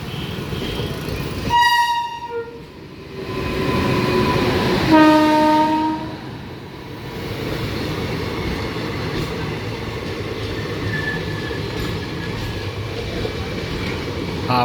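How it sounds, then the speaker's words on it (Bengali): A down local train runs toward Hooghly railway station, sounding a loud two-tone horn blast twice before a steady rumbling roar of wagons rolling past close by. "Down local train Hooghly railway station অভিমুখে যাচ্ছে।"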